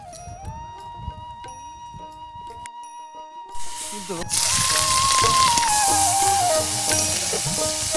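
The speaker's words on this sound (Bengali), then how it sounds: "এই চরের মাঝে রান্না হচ্ছে খোলা চুলায়" Food sizzles and fries over an open stove outdoors on a river char island at Harukandi, Manikganj, a steady crackling hiss that swells louder midway, with voices talking over it and faint clinks.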